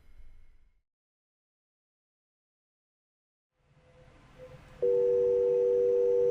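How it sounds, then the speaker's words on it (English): After a few seconds of silence and faint line noise, a telephone fast busy signal comes on, a loud, steady pulsing tone heard alone after dialing a Montreal 514 local number on an enterprise phone system. "When we dial local area code 514, we get fast busy after 7 digits have been dialed."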